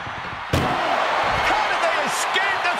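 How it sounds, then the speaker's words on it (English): An ambulance door slams shut with one sudden, loud bang during an ambulance match at a professional wrestling event, followed by a steady wash of crowd noise and arena ambience. "Trying to at least slam one door shut."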